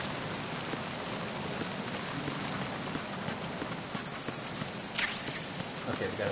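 Steady rain pours down in the video game Metal Gear Solid, a dense, even hiss of drops striking surfaces throughout, with a faint brief tap or step partway through and no clear talk.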